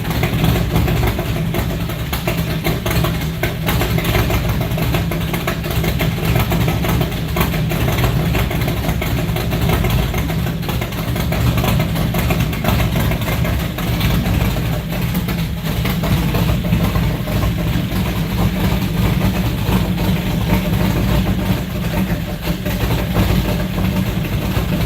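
A 1968 Plymouth Barracuda's engine idles steadily after its first start-up, a loud, continuous low rumble that holds even throughout with no talking.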